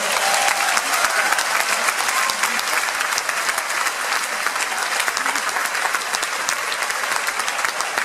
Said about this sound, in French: on va se donner une bonne main d'applaudissements